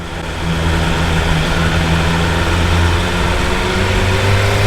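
A BMW S1000R motorcycle engine revving high, a loud, sustained roar holding a steady high pitch throughout, close and continuous, with no voices.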